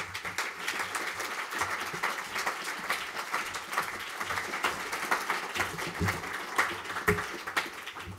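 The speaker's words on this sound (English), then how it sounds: "ask you to give a good round of applause" Sustained audience applause welcomes Rob Hopkins to the stage at a talk on confronting change, dense steady clapping from a crowd throughout.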